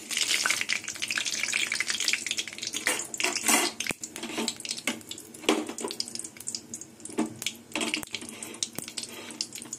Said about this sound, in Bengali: ফোড়নে কালো জিরে দিয়ে দেবো।